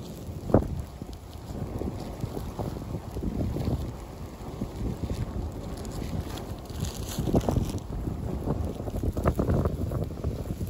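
Wind blows outdoors at a campsite, a low, gusty rumble buffeting the microphone throughout, with scattered faint knocks and rustles underneath.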